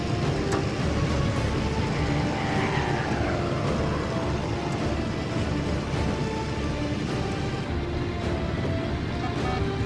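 A warplane engine drones loud and continuous in a Pacific air-battle video game, with a rough broadband roar and a faint pitch sweep midway, no voices.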